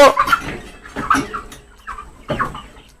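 Broiler chickens cluck in short, irregular bursts close by, several birds overlapping with brief pauses between calls.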